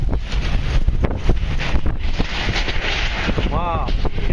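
High wind in a Phoenix dust storm, a loud steady roar buffeting the microphone for the whole span, with gusty pulses, debris rattling and brief talking underneath.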